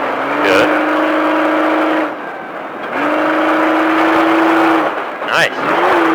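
An off-road stadium truck at Speed Vegas revs hard and sustained, with the engine dropping off briefly twice as the throttle lifts and a voice speaking over the loud motor.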